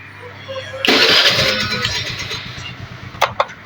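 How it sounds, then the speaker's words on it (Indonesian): Electric starter on a carbureted Honda Vario motorcycle is pressed, giving a loud whirring crank that runs for a couple of seconds, then two short sharp bursts near the end. "Jadi saat tombol starter dipencet"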